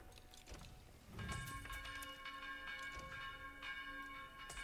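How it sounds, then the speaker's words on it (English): The town bell tolls in the video game Age of Empires IV during a Mongols versus Ayyubids match, its bright metallic strikes ringing repeatedly over soft game ambience, with no talking. "I accidentally hit R with my town center, so they rang the town bell."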